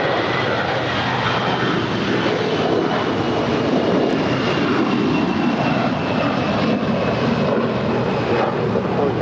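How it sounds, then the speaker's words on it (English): A 20-year-old Air Canada Airbus A321 jet departs LAX with a loud, continuous broadband engine roar that stays steady and close for the whole stretch. "That was Air Canada 790 departing to Toronto. It's a 20-year-old Airbus A321."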